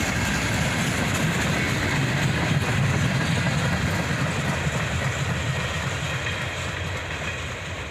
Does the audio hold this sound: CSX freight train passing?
yes